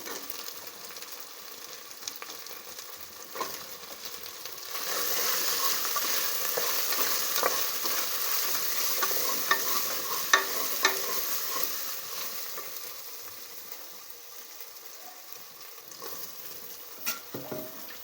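Carrots and potatoes fry in a pan for a vegetable khichdi, a steady sizzle swelling louder midway with scattered stirring clinks and scrapes, no voices.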